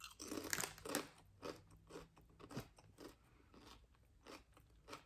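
Someone bites and chews Irish cheese and onion crisps up close, a run of sharp crunches and crackles that fades to softer chewing, quiet and without talking.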